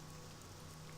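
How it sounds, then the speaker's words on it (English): Steady rainfall in the video game Morrowind, a soft, even hiss of drops with a low hum underneath, continuous and fairly faint throughout. "So it's raining again."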